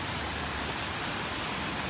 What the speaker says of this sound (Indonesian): Hujan guys, masya Allah, emang hari ini tuh hujan deras.